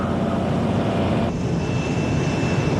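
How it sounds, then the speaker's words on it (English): Military aircraft returning to base during Desert Storm, a steady, loud engine roar filling the whole stretch with a slight shift in tone partway through, no voices over it. "12 planes had left. 12 planes returned."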